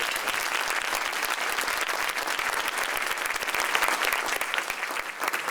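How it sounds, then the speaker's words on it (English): A school band and chorus receive applause at a community celebration event, with dense, steady clapping from a crowd that stays loud throughout. "So let's give them a round of applause for sharing their time and talent."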